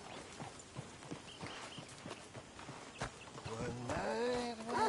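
Horse hooves clip-clopping at a walking pace in Red Dead Redemption 2, a steady rhythmic patter of close hoof falls, with a voice joining near the end.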